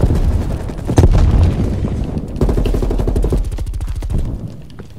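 A grenade detonates in Call of Duty Cold War, a loud close boom followed by rumbling blasts and rapid bursts of gunfire.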